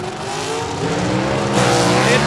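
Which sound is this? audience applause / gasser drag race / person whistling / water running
gasser drag race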